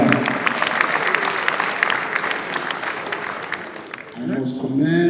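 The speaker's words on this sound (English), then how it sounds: "I think you should give him a louder round of applause" A convention hall audience at an APC Southwest Zone general assembly applauds Lagos State Governor Babajide Sanwo-Olu with a loud, sustained round of dense clapping that fades toward the end as a voice begins speaking.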